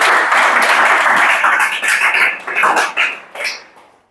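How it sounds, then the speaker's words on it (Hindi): A coaching-class audience in Chhattisgarh claps together in a loud burst that breaks into scattered, fading claps over about four seconds. "ताली बजाओ जल्दी से"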